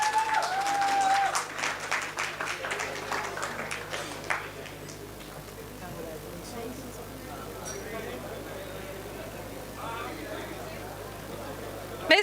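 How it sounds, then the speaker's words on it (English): Audience applause at an Army Institute of Management and Technology MBA convocation ceremony, dense clapping at first that thins and fades over several seconds, with a faint hum and a sharp bump at the end. "Everyone, please give a big applause to our awardees."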